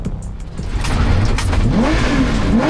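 A racing car engine roars loudly up close during a Britcar endurance race at Oulton Park, the pitch climbing as it revs and accelerates hard past a sliding car rejoining the track.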